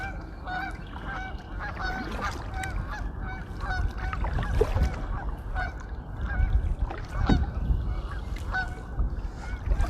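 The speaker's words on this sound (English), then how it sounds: "Lots of geese out today, calling away." A flock of geese honks repeatedly in a spring marsh, overlapping calls from several birds, moderately close over a low outdoor rumble.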